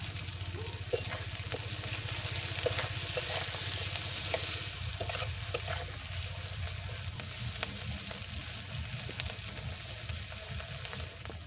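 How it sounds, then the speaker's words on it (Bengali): Onions sizzle steadily in a hot pan for Bengali meat khichdi, a continuous close crackle and hiss with occasional stirring scrapes and no talk. "পেঁয়াজটা ভাজা ভাজা হয়ে গেছে"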